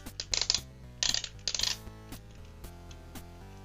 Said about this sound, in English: Shoulders are on little clicky ratchets.